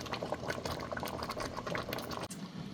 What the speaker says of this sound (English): So I'll let this simmer for like 5 minutes, and then our fish is gonna be ready.